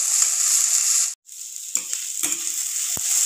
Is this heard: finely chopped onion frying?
yes